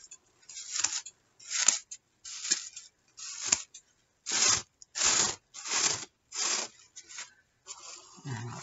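Scissors trimming a coffee filter Christmas tree give a series of about ten crisp, close snipping and rasping strokes, evenly paced with brief gaps, heard alone.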